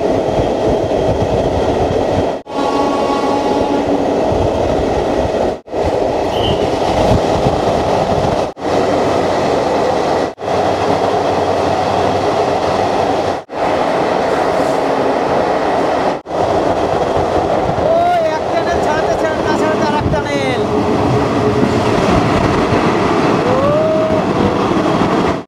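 The Vande Bharat Express runs through the long T49 tunnel between Katra and Srinagar, heard from inside as a loud, steady rumble with faint clicking rail noise and a few brief dips.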